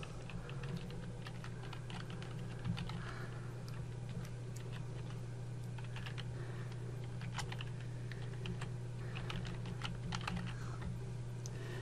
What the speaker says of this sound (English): just type the email address.